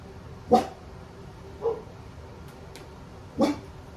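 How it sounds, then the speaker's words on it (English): Dogs bark three times, spaced out over a few seconds, sounding somewhat distant in a quiet room. "My dogs are barking."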